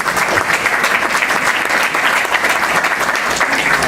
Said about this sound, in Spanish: Aplausos para la directora.